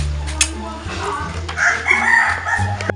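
A rooster crows amid a casual outdoor gathering, its call rising in the middle of the moment while people talk nearby.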